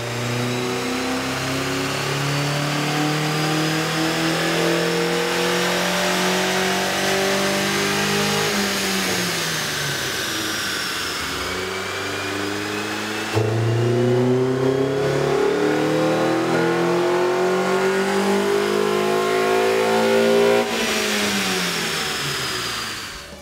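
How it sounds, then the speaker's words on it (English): A 2012-2014 Honda Civic Si 2.4L fitted with a K&N short ram air intake revs on a dyno, its engine note climbing and falling in repeated sweeps, with a sharp jump in loudness midway, close and continuous. "we ran the vehicle on the dyno to test the sound comparison versus the stock intake."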